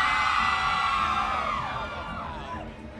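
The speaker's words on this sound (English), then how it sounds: "You can hear the screams." A sold-out rock festival crowd at Buzzfest 27 screams and cheers, a loud shrill roar of many voices that slowly fades.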